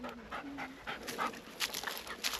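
A hunting dog on a farm pants quickly and rhythmically close by, soft, breathy repeated huffs with a faint whine at the start.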